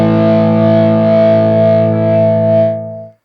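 An ESP Aero guitar with an EMG 81 bridge pickup rings through a modded Mesa Boogie Rectifier tube amp, a loud sustained distorted chord with thick harmonics that holds for about three seconds and then cuts off.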